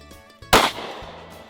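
Bang stick cartridge fired to dispatch an alligator during an Alabama alligator hunt, one sharp, loud bang that decays quickly against quiet background, with no voices.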